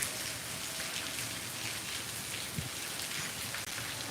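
A dense, even roar of heavy rain falls on a flooded groundnut farm near Jam Khambhalia, Dwarka district, with no voices and only a faint thump or two within the steady wash.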